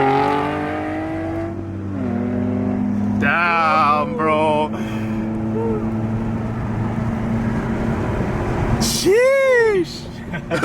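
A modified Nissan 370Z Nismo drops a gear and accelerates hard, its engine note rising and falling loudly through sweeping revs over road rumble, with a brief exclamation from someone inside the car.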